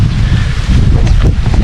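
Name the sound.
wind blowing outdoors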